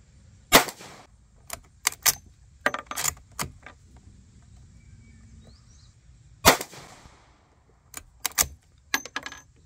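Outdoors, a Rossi R92 lever-action carbine in .357 Magnum fires two sharp, loud cracks several seconds apart, surrounded by quieter metallic clicks and clacks of handling and cycling the action.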